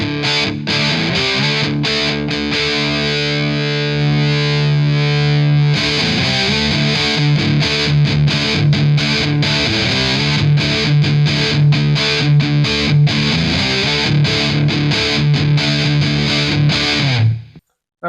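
An electric guitar through a Behringer UD300 distortion pedal, with the tone set around noon, plays a loud, sustained, slightly quacky distorted riff with chugging rhythmic strums before cutting off abruptly near the end.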